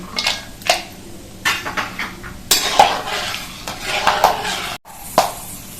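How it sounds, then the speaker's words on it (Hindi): Almonds are dry-roasted in a pan, with intermittent scraping, rattling and clinking as the nuts are stirred against metal, uneven bursts nearby and a brief sharp clank near the end, no speech. "सबसे पहले हम बादाम और काजू भून करके तैयार करेंगे"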